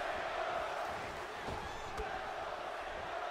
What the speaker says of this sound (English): And you can even hear it in this crowd.